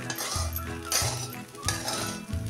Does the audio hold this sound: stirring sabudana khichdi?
yes